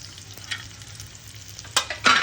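Egg pieces frying and sizzling in a pan with ghee, a steady soft crackle under stirring, with a couple of louder sizzling bursts near the end as the pieces are moved.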